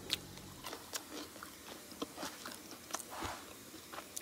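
Crisp crunching bites and chewing of a hot, crunchy lentil flatbread (thalipeeth), several sharp cracks at irregular intervals, close and fairly quiet.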